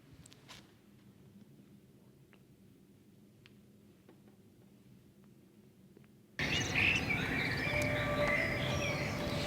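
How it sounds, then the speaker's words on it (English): Birds chirp and tweet in short, scattered calls against a faint, quiet outdoor background, then a louder, denser stretch of sound takes over near the end. "The sounds of birds chirping."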